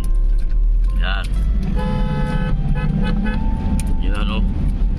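Busy street traffic in Daet with school students leaving: a constant engine and road rumble, a few car horn toots standing out, and talk mixed into the loud roadway noise.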